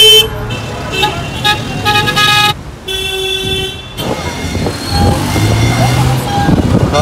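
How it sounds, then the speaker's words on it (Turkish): Car horns toot repeatedly amid busy street traffic in central Cairo around Tahrir Square, several honks overlapping at close range over a constant roar of engines, with a loud blast near the start and more honking later. "Korna ve trafik, özellikle Kahire'nin merkezi Tahrir Meydanı etrafında 24 saat boyunca hiç bitmiyor."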